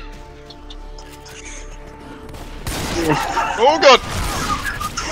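Gunfire in the zombie shooter Left 4 Dead 2, running a Resident Evil 1 mod: a burst of shots erupts partway through, loud and cluttered, with a man exclaiming over the noise.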